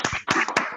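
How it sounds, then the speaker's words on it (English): A single person claps their hands four times at the close of an online lecture on the second quantum revolution. The claps are brisk and evenly spaced, sharp and close, with nothing else heard. "I can clap."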